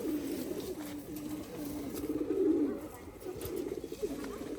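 Several pigeons coo in low, rolling, repeated phrases, near and steady, one call swelling louder midway against a faint background.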